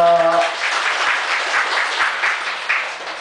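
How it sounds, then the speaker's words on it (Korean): An audience at a Buddhist temple lecture breaks into a burst of applause, many hands clapping together in a dense, even patter that holds steady, with a brief spoken voice right at the start. "자, 박수"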